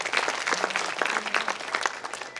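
Schoolchildren at St. Pauls School Jalaun's annual day clapping to thank their parents, a lively patter of distinct, irregular claps in a moderately sized crowd, fairly close and steady throughout.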